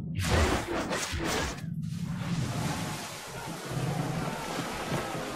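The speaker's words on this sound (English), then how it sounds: "That wind's slowing us down." Wind and waves at sea in Assassin's Creed 3, heard from aboard a sailing ship: a continuous roar of surf and gusting wind, loud and close, with a few brief splashy bursts near the start and no talk.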